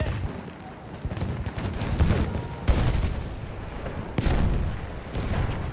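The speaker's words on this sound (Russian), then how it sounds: "У них пулемет!" Dense, booming battlefield gunfire in Battlefield 1, with a machine gun rattling among heavy blasts and explosions, loud and continuous, with sharp bursts cutting through the din.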